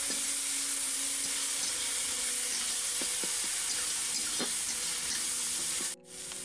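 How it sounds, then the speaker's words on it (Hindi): Ginger garlic paste hitting hot oil in a pan, a steady loud sizzle and hiss with faint stirring clicks, briefly cutting out near the end. "अब इसमें डालेंगे पिसा हुआ अदरक और लहसुन।"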